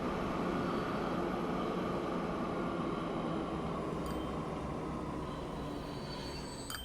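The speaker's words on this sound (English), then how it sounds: "That's a train coming in with iron ore." Steady broadband rumble of a train pulling in with a load of iron ore in the Transport Fever 2 game, a continuous low roar with faint high whistling tones near the end.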